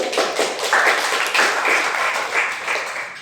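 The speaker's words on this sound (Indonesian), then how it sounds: "Terima kasih Esther, tepuk tangan" An Indonesian secondary-school class applauds a student after her answer, with a steady wash of many hands clapping together at close range, sustained and fairly even throughout.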